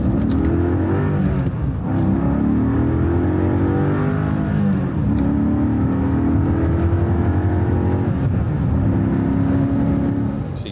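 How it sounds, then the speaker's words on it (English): Mercedes CLK55 AMG swapped to a manual gearbox with a lightweight flywheel, revving hard through gears with several sharp throttle blips on rev-matched downshifts, loud and close with repeated rising and falling engine pitch. "Nice, smooth rev match downshifts with that super lightweight flywheel."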